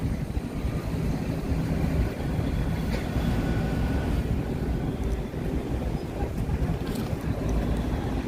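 Heavy city traffic on Michigan Avenue in Chicago, a steady, loud low rumble of passing vehicles with wind buffeting the microphone and no clear voices.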